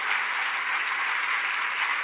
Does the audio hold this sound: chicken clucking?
no